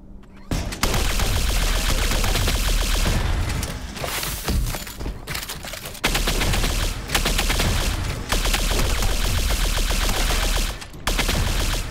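Energy weapon fire in the video game Dysterra, sustained loud bursts of rapid shots with brief pauses between volleys, dense and continuous across the scene.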